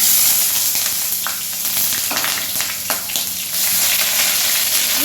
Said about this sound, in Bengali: জিরা দিয়ে দিলাম একটা তেজপাতা দিয়ে দিলাম এবার পেঁয়াজটা দিয়ে দিই